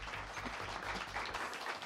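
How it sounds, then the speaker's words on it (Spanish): Soft, distant audience applause at a debate on whether the universe has a purpose, a steady patter of clapping heard faintly over a low hum. "Un aplauso para él."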